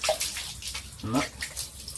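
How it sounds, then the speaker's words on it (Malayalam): Water poured and splashed onto a hot lime-shell kiln during shell burning, a brief gushing hiss and splash near the middle, over a steady low background. "ഇങ്ങനെ ഇതിപ്പോ വെള്ളം ഒഴിച്ചു"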